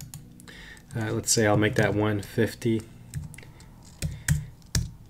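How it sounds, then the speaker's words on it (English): Keys on a computer keyboard are tapped to enter a dimension in Fusion 360, producing sharp isolated clicks that come mostly after someone speaks briefly, with a few spaced taps toward the end. "what you could do is hit D on the keyboard for dimension"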